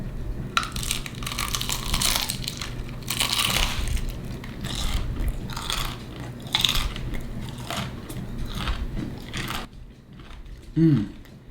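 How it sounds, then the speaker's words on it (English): Close, loud crunching bites into crispy KFC and Popeyes fried chicken, with repeated crackling chews in ASMR style and one last brief bite near the end. "I definitely need to just bite into these so I can taste the difference"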